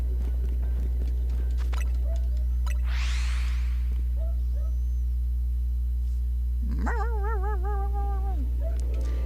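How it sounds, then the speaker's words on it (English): An indoor dog reacts to a noise outside with a bark and later a drawn-out, wavering whining yelp, both loud over a constant heavy electrical hum. "Something outside has made a noise. Stella has to bark at it."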